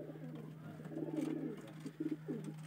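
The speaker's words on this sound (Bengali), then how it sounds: "এগুলো মুর্শিদাবাদের অরিজিনাল পায়রা।" Murshidabad giribaz pigeons coo close by in short, soft, throaty bursts, a few separate calls over a low steady hum.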